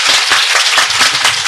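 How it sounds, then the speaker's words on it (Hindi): Loud, dense clapping from an audience at a spiritual discourse, a steady wash of many hands that carries on without pause and with no voices over it. "जोर की ताली मारो, जोर की ताली।"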